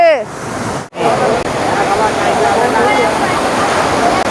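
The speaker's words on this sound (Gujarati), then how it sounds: "આટલો પવન ચાલી રહ્યો છે" Strong wind blowing steadily by the sea, a dense, loud continuous roar that persists throughout, with a brief sharp drop near the start before the gusting noise returns.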